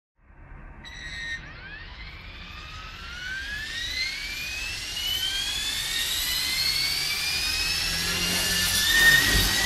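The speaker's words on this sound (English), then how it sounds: "when I was younger, I always wanted a radio-controlled helicopter like this" A radio-controlled helicopter spools up and flies, its whining rotor and motor pitch rising steadily and growing louder over several seconds, heard alone and close.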